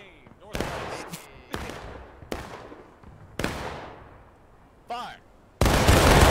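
Sharp musket shots crack out one after another in the War of Rights video game, each followed by a decaying echo, ending in a louder, dense burst as many rifles fire together in a volley.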